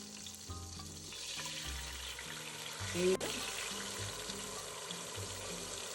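Tomato sauce pours into a hot pan and sizzles steadily in a home kitchen, a low bubbling hiss continuing for several seconds with a brief clatter near the middle as the sauce lands.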